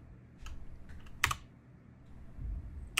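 Keys pressed on a Corsair K95 RGB Platinum XT mechanical gaming keyboard with Cherry MX Brown switches give a few scattered, fairly faint clacks, one sharper strike standing out, with no voices.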